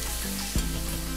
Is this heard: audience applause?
no